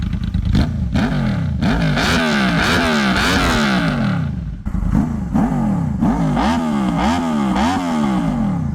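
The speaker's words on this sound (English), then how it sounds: "This is the Delcovic slip-on exhaust system." A Honda VFR800 VTEC V4 motorcycle with a Delkevic slip-on exhaust revs hard in repeated rising and falling bursts, loud and close, with a brief dip midway before more throttle blips.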